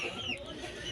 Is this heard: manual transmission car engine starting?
no